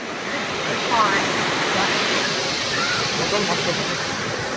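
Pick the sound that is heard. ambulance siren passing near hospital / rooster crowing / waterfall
waterfall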